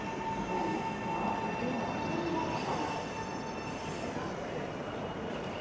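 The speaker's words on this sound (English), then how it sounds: "this is my train right now" Steady rumbling of a moving train car in Japan from inside, with continuous wheel and track noise, a faint metallic whine, and no talking.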